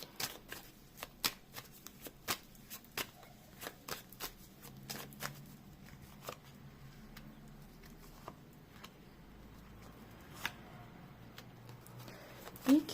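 Tarot cards being shuffled in repeated quick riffles and taps, close by, with occasional louder snaps and soft rustling between them; no talking.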